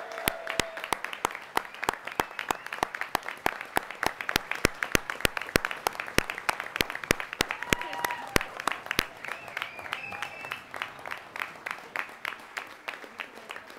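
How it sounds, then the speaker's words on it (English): Steady, sharp clapping from a small audience at a business analytics graduation recognition ceremony continues throughout, with murmuring voices in the background. "please join me in a round of applause"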